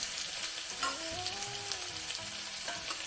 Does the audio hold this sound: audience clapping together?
no